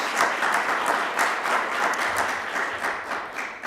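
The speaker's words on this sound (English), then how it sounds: "For those in the room, let's just give him a round of applause." Room audience at the State of the City address in Athens applauding the mayor, a full, steady round of clapping from a sizable crowd, sustained at moderate volume without speech.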